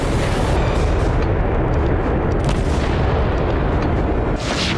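Missile explosions in a residential area of Kharkiv come through as a continuous loud, dense roar of rumbling blasts and booms lasting several seconds, with no voices.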